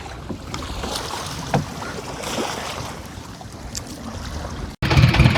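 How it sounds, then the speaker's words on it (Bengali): Water sloshing and knocking against a small boat hull on the Padma River's strong current, with wind rumble and a louder scraping shove near the end as the boat is pushed off. "নৌকা ধাক্কা দিচ্ছে আপনি উঠবেন কেমনে"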